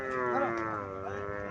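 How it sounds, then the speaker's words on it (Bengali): A Jersey cow or calf on a cattle farm in Cumilla gives a single sustained, droning moo, loud and close. "জার্সি জাতের গাবি বাছুরটা"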